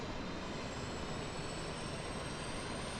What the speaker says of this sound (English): We actually hear the APU spooling.